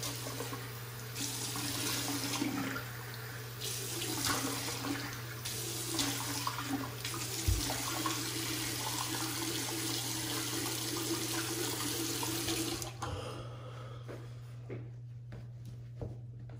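Water runs steadily from a bathroom tap for a face rinse after a shave, a loud continuous splashing rush with occasional hand-splash changes, then cut off toward the end leaving quiet drips.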